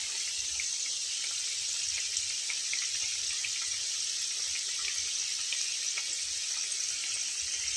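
Potato samosas deep-frying together in a pan of hot oil, a steady, dense bubbling hiss that holds evenly throughout without any talking.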